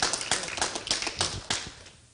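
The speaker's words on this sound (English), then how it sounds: "Just give us a hand clap on that one." Church congregation clapping hands during a service, a short burst of sharp, uneven claps from a modest group that quickly thins and fades out.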